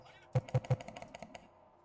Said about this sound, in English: Okay, it's just automatically typing.